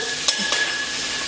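Garlic sizzles gently in a hot pan, a faint steady hiss marked by a few quick scrapes from a spoon near the start, heard up close without voices.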